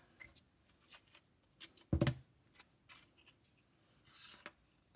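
Scissors snipping tape for a paper Halloween stone house model, a few faint close cuts and crinkling tape, with one louder rustle midway and soft handling noises in a quiet room.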